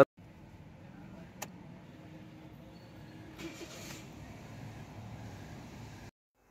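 Toyota Vitz with a 1KR engine idling at about 700 rpm with slight vibration, a low steady rumble close by, with a brief click and a faint hiss partway through before it cuts off.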